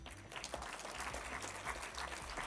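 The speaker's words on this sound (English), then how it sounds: "A big round of applause." Applause from the audience at an international technology conference, a steady wash of many hands clapping, fairly faint and continuous throughout.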